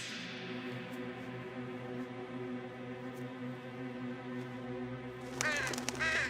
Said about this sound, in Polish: zwykły ptak.